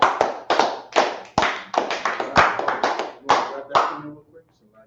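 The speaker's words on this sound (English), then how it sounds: "Let's clap it up for the class." A small class claps together in a room, about a dozen loud, distinct, uneven claps in quick succession that trail off into quiet.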